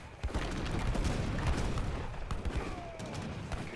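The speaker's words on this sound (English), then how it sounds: "My mortar's still shooting at this fort" Mortar shelling a fort during a 2v2 Age of Empires III: Definitive Edition match, Lakota against Dutch, a busy stream of booms and gunfire cracks over continuous battle noise.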